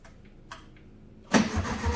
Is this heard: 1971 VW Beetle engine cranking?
yes